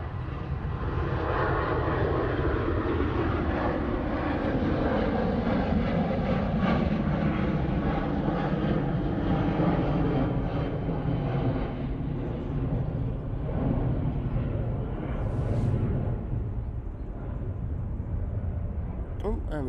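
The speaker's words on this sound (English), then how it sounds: "TUI 737-800 now departing." A TUI Boeing 737-800 departs Manchester Airport bound for Paphos, its broad jet roar holding steady and loud throughout with a slow shifting whine, while a person talks intermittently over it.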